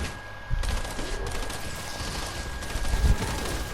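Rapid sustained fire from the Trinity gun in Fortnite Save the World, a dense continuous rattle of shots running loud and close throughout with a heavier burst near the end.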